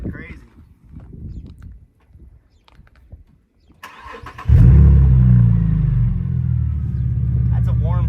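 Pontiac G8 with a 3.6 liter V6 and upgraded exhaust starts up warm after quiet talk, catching with a loud burst and settling into a steady, deep rumbling idle.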